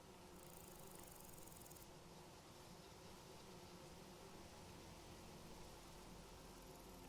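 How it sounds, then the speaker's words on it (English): Wild bees in the Vintage Story video game make a faint, steady hiss-like buzz that carries through the whole stretch. It sits over low background ambience, with no talking. "That slight buzzing, that is the sound of bees."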